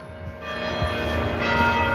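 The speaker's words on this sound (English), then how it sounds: "Ring the cancer-free bell." A cancer-free bell rings with sustained, overlapping metallic tones that swell and linger, fairly loud and resonant with no talking.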